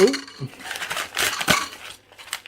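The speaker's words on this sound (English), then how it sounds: "I'm going to need to wash the bowl up quickly." A ramen bowl and spoon being handled and washed, with clinking and clattering of crockery and cutlery in irregular bursts, fairly close, and no clear talk.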